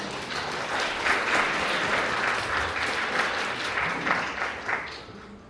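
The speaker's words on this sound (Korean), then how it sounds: "신부를 위해 멋진 무대를 준비해 준 신랑에게 다시 한번 큰 박수 부탁드립니다." Guests at a Korean wedding ceremony applaud the groom in a full, steady round of clapping that tapers off near the end, with no speech over it.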